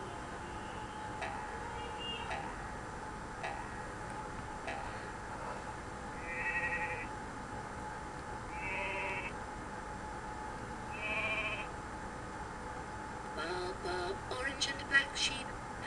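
Short sheep bleats in the video game Tizzy's Toybox repeat every couple of seconds, moderately loud, over a steady game background hum with occasional ticks and a busier burst near the end.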